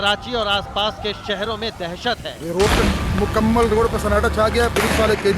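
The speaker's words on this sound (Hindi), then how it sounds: "फायरिंग की आवाजें सुन सकते हैं आप" Gunfire rings out on Karachi streets during a prison break at Malir jail, a burst of loud cracks and rumble under a news reporter's ongoing voice.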